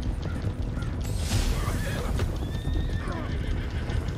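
Horse hooves clip-clop steadily while a horse neighs and whinnies in Red Dead Redemption 2 Online, close and continuous, with faint mechanical creaks mixed in.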